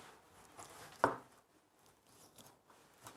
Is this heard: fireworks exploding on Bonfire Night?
no